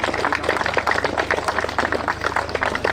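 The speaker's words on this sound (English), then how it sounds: "Big round of applause." Outdoor race prize-giving for Daniel Ricciardo Series drivers at Glan Y Gors: a crowd claps steadily and densely for three seconds, fairly close, with little talk over it.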